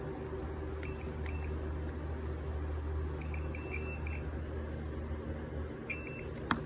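A continuity tester, a cheap Craftsman meter on tone, gives several short high beeps in separate clusters over a steady background hum while wires of a Hemi swap harness are touched together.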